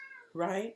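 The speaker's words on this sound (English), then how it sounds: "that's my cat" A house cat meows once, a short close tonal call following a faint spoken word.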